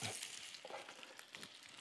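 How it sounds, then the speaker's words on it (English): Quiet crackling sizzle of onion frying in olive oil, with faint scraping and small pops, close by. "Nice and sizzling."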